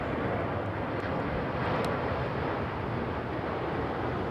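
An Airbus A350 airliner in a new livery at London Heathrow, heard as a continuous, fairly loud jet engine rumble and roar that stays even from start to finish, with no talking.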